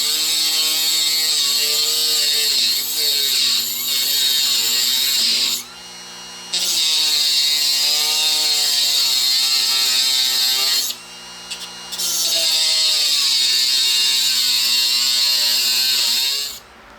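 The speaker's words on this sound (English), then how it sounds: "here we have our Dremel with our metal cutting disc, and you just want to be careful with it, and we're just going to remove this head" A Dremel with a metal cutting disc grinds into the head of a binding post, a loud high-pitched whining screech held for long stretches and dropping out briefly twice as the tool is lifted.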